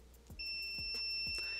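A multimeter in continuity mode, used while testing an iPhone during repair, gives a steady high-pitched electronic beep that starts early and holds unbroken to the end, quiet and alone, with a few faint clicks beneath it.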